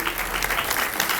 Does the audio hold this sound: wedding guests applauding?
yes